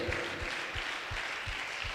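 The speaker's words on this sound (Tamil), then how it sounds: "விசுவாசிக்கிறவன் நல்லா கைத்தட்டுங்க" Church congregation clapping in steady rhythm, a sharp burst of many hands roughly every third of a second, continuous over a soft wash of room sound.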